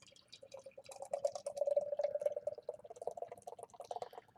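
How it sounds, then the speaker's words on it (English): Shoalie IPA from Pretoria Fields Collective is poured from a freshly opened can, a quiet, close gurgling stream of liquid filling a glass for a few seconds, rising and trailing off in small splashes. "let's go ahead and crack this thing open, give it a pour"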